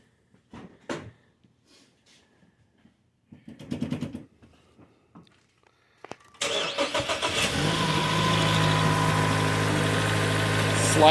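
A Dodge Dart fitted with a Mopar cold air intake cranks and catches, settling into a loud steady idle after a few scattered handling noises and clicks in near-silence.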